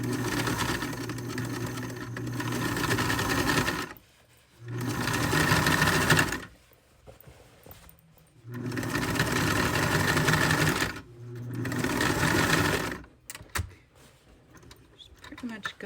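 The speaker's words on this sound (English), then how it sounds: "I'm going to sew the other side of the point" A sewing machine stitches a quilt panel onto a pair of jeans in several long whirring runs separated by pauses, close and loud, with quiet rustling between bursts.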